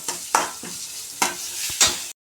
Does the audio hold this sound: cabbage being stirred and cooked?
yes